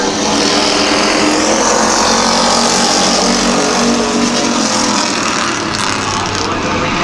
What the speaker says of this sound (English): Okay, moving to the second pure stock heat race.